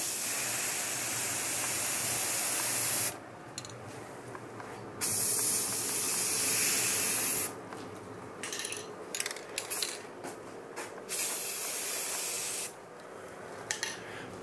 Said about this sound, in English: We're just going to mist on a real light coat at first and we'll come back with two heavier coats.